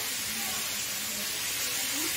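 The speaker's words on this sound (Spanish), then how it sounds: "vamos a poner nada más 4 minutos que lleva a vapor" Fish fillets cooking in a steamer: a loud, continuous steady hiss of steam close by, filling the whole stretch without a break.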